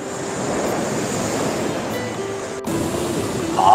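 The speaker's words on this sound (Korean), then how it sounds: "파도 세네." Strong surf breaks along a beach at daybreak on a windy fishing shore, a steady roar of waves with wind buffeting the microphone and a louder wash near the end.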